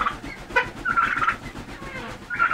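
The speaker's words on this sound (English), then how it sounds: "That's our newest turkey," A turkey gobbles repeatedly nearby, loud rapid warbling bursts with short gaps over a steady background of other fowl noise.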